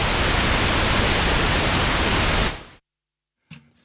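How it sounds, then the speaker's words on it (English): Steady, loud analog pink noise from a Bastl noise square modular synth module hisses continuously for a few seconds, then stops abruptly into silence, and a faint separate sound follows at the end. "We've got two analog noises, pink"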